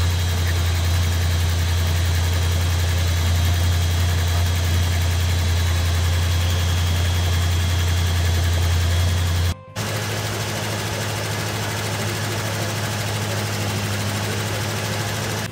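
A Ford F100's V8 engine idles steadily after start-up with a deep, even rumble, briefly cutting out for a split second before the same low idle resumes.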